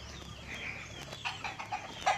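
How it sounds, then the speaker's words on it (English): Chickens and roosters clucking at a home along a road in the Philippines in the late afternoon, a few short clucks and calls in quick succession, fairly faint and set a little way off, with no talking. "There are chicken here."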